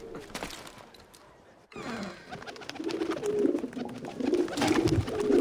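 Pigeons coo softly at a pigeon coop in the Assassin's Creed 2 game, repeated low throaty calls that grow fuller after a brief pause, with faint ambient rustling and no speech.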